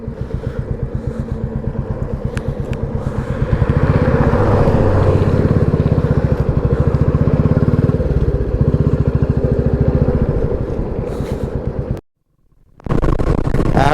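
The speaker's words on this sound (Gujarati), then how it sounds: "R15 છે સ્પોર્ટ બાઇક" A Yamaha R15 sport motorcycle carrying riders on a winter highway ride, its engine droning loud and steady with a rhythmic pulse, surging louder midway, then cutting out briefly before roaring back.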